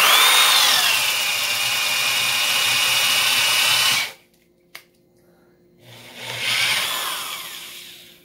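A drill whines loudly as it bores a self-feed spade bit into fir at 1,000 RPM for about four seconds, stops briefly with a small click, then spins up and cuts again.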